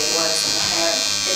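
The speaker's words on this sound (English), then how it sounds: "I guess it would be trimmer over comb" Close, steady buzz of an electric beard trimmer run over a comb through a big, thick beard in a barbershop, with talking over the droning motor.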